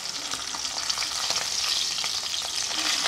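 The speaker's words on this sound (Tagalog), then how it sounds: "Tapos ito na po yung ating bangus na piniprito." Milkfish (bangus) fries in a pan with a dense, steady sizzle and spitting crackle of hot oil, close and fairly loud, continuous throughout with no voices.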